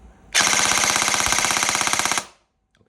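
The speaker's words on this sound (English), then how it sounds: "so you can start to shoot 30 rounds" A Kestrel V2 eShooter airsoft gun fires a single full-auto burst lasting about two seconds, a loud, close, rapid mechanical rattle of evenly spaced shots that stops abruptly, followed by near silence.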